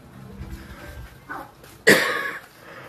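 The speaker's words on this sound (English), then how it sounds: "I didn't mean to just get on and start coughing" A person coughing in the early morning: softer throat sounds first, then one loud, harsh cough that trails off.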